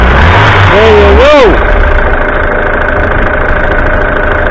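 A 1989-90 Ford Fiesta Ghia, left standing since 2014, with its engine idling loud and close just after starting, a steady rumble with a voice speaking briefly over it early on.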